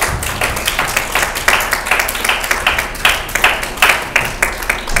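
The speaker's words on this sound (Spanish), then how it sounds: "Démosles un aplauso al Señor, hermano." A church congregation claps rhythmically in unison, a loud, close, steady beat of sharp claps repeating through the whole stretch with no talking over it.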